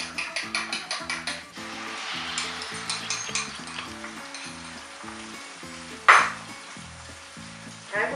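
Beaten egg with a splash of milk hits hot browned gyro meat in a pan for a breakfast wrap, setting off a steady close sizzle with a sharp utensil clatter near the end, over soft background music.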